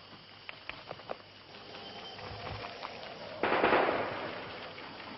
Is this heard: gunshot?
yes